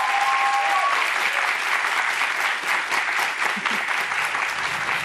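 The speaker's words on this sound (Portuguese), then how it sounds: "Aplausos para o Tito" Applause from a studio audience on a Brazilian talk show, steady and dense for the whole stretch, loud and close, with a faint whistle-like tone briefly at the start.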